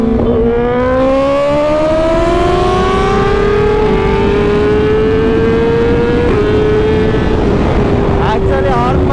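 A BMW S1000RR motorcycle ridden hard, its engine roaring loud and close with a rising whine that climbs through the gears, wind rushing throughout.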